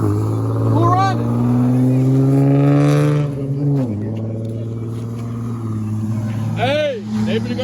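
Cars at a street car meet droning and revving as they race, engine tones rising and falling over several seconds with a sharp dip midway, while people talk and shout nearby.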